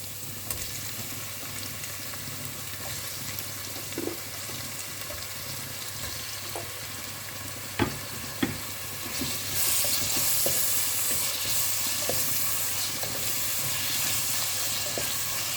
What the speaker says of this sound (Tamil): இதுவும் வதங்கட்டும். தக்காளி வதங்கிடுச்சு.